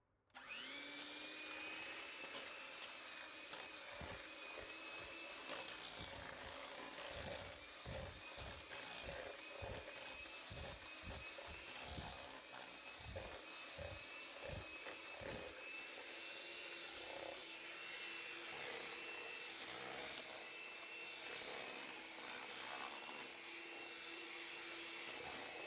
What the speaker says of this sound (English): I'm still using my crazy high-speed crackhead mixer